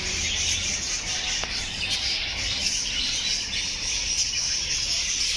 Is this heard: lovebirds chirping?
yes